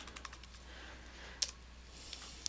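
Typing on a computer keyboard, a quiet run of light key clicks with a couple of sharper taps, close and faint against a near-silent background.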